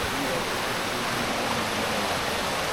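Water rushes continuously along the side of an outdoor spot, a dense, close, steady hiss of flowing water with no pauses.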